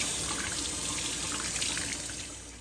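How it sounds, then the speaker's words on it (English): Water pouring over an Adidas NMD R1 sneaker to soak the uppers, a steady close hiss of running tap water that eases slightly toward the end. "I'm just going to soak the entire shoe"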